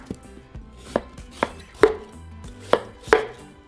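A knife chops honeydew melon into small cubes on a board, with five or six distinct close thuds spaced irregularly, each with a short crisp attack, and quiet in between.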